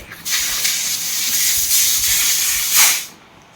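Nitrogen hisses steadily from a Daikin FTM13PV2S air conditioner coil being pressurized to 300 psi, a loud, continuous broadband rush lasting about three seconds with a brief surge near the end before cutting off.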